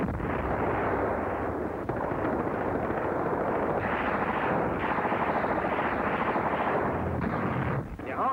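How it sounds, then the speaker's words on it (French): Artillery shelling a village in a WWII newsreel, a dense, continuous rumble of blasts and booms with a muffled, band-limited old-film quality, sustained throughout without pause. "Artillerie eröffnet den Kampf um diese Ortschaft."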